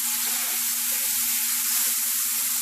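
Curry leaves, ginger, garlic and green chili paste hit hot oil in a pan, where mustard seeds have just spluttered, giving a steady, bright, close sizzle that hisses on without a break and has no talk over it.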